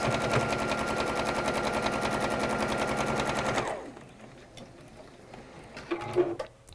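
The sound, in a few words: sewing machine sewing a plain square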